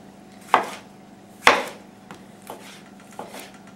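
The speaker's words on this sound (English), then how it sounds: "Chopping it up into chunks" A knife chopping fresh tomato into chunks on a board, two firm loud chops followed by three lighter cuts, close and spaced irregularly with no talk.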